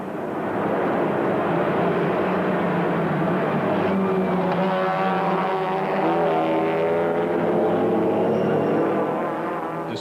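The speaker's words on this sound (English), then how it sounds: "the roar of the 55-car field in a mad dash" A 55-car field, including Toyota MR2s, roars at the start of the 1994 Bathurst 12-Hour race, a dense, continuous droning engine rumble that holds steady throughout.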